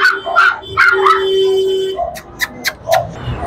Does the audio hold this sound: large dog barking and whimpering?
yes